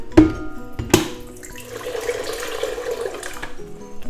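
Water pours into a cooking pot for Kyrgyz borscht, a steady gushing splash that follows two sharp knocks and runs for about three seconds at close range, with no talk.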